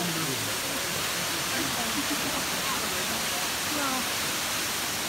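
Kamieńczyk waterfall rushes as a steady, broad roar of falling water, with voices faintly audible beneath it.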